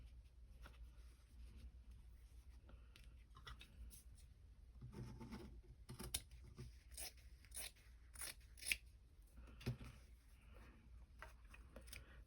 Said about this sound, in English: I'm just cutting out a little piece of this towel. It's a dish towel.